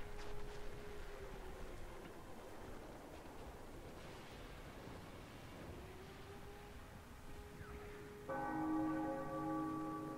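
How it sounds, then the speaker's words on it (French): A church bell rings in the Sniper Elite V2 war game: quiet ambient noise and a faint tone build to a loud, sustained bell strike near the end, ringing with long harmonic overtones. "Cette fois-ci, c'est pas des obus, c'est une cloche."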